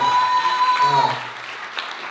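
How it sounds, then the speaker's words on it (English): Applause from an audience at a gathering, a dense round of clapping that is loud at first and then thins out, with a steady tone sounding over the first half. "Let's give it a round of applause."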